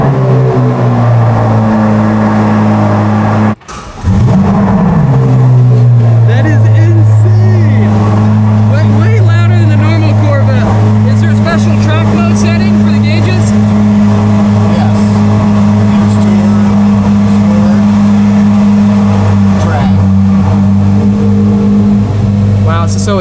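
A 2023 Chevrolet Corvette C8 Z06 with its V8 cold-starts indoors: a sharp loud catch, then a heavy, droning high idle with a few throttle blips, very close and loud, while people talk over it.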